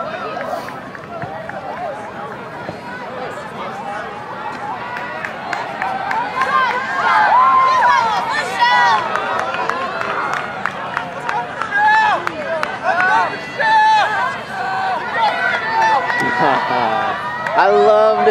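Spectators at a women's 5000m track race cheer and shout encouragement for a runner, a mid-distance crowd roar that swells in waves with voices calling over steady crowd babble.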